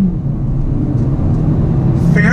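A 2019 Hyundai Elantra Sport's engine drones steadily and close while accelerating on a twisty road, a continuous low rumble with no talk over it.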